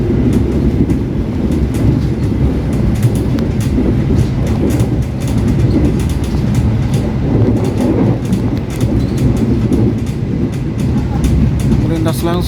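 A passenger train runs straight through Arjawinangun station in Indonesia, making a loud, continuous roar with a rhythmic clickety-clack of wheels on rail joints throughout, heard close by from on board.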